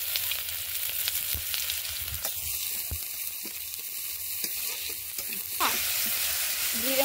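Garlic and onion fry in a little oil in a wok with a continuous close sizzle, a thin steady whine laid over the middle stretch before the hiss swells again.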